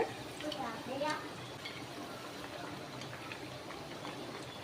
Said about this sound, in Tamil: நல்லா பொரியுதில்ல